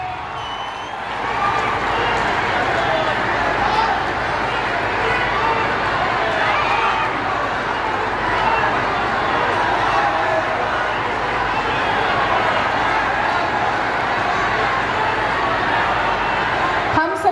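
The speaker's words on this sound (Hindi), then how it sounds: "जोरदार तालियां बजती रहनी चाहिए।" A large crowd claps loudly and without pause to welcome Chief Minister Nitish Kumar at a project inauguration event in Sanhaula block, with faint shouts mixed into the sustained applause.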